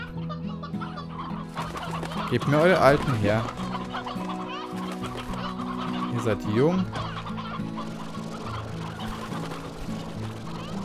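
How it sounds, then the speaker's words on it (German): Chickens in the game Slime Rancher, including an old rooster, cluck and squawk in two louder bursts and then keep clucking more quietly, while someone speaks German over them. "So, hier nochmal ein alter Gockel."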